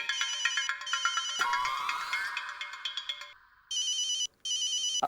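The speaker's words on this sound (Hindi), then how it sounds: "आपके लिए फोन है।" An electronic telephone ringtone trills in repeated bursts, then a rising warble plays before the bright ringing pattern returns, loud and close with no talking.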